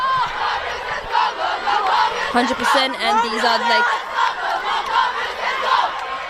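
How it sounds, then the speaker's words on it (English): Crowd at a rowing regatta, a dense roar of cheering and shouting voices that swells and ebbs throughout, with a nearer voice talking over it and a few sharper whoops midway. "they can hear the cheers of their friends and their colleagues and people just supporting them"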